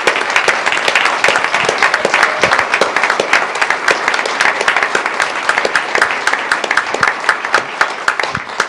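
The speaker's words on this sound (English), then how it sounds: "So give these young people one more round of applause." Audience at a city council meeting applauding young people, a loud, dense burst of clapping with sharp individual claps that carries on steadily and alone without talk.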